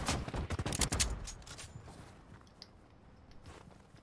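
Burst of rapid gunfire in a video game shooter, with a cluster of sharp, close shots up front that thins to scattered, fainter cracks and mechanical clatter.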